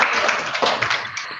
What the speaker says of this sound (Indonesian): Tepuk tangan buat Randy